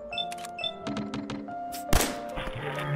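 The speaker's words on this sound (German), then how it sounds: "Hört ihr das? Hier wird geschossen." Gunfire and combat from the video game Fallout 4, with scattered thunks and knocks followed by a sharp loud burst near the middle, set against a busy in-game soundscape.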